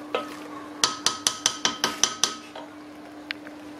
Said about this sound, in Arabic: دابا غادي نخلط مزيان